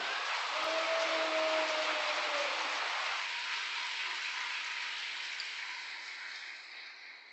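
Sustained applause from a large crowd at a church vigil prayer gathering, a dense even clatter of hands that holds steady and slowly fades toward the end, with no voices over it.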